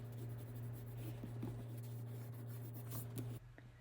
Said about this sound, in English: get rid of all of those pencil marks